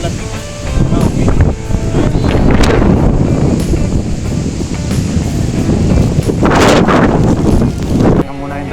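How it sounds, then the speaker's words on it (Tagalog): Strong wind buffets the microphone on the summit of Sunset Peak, a high Hong Kong mountain on Lantau, roaring in loud continuous gusts that surge and swell throughout. "Malakas ang hangin."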